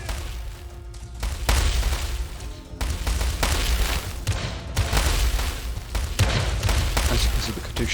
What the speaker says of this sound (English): As you can see, the Katyushas are firing again.